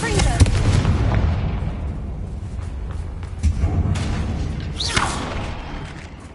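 The Confringo blasting spell in the video game Hogwarts Legacy, a booming explosion with a rumbling crackling tail that fades, followed by a short whooshing magical flare.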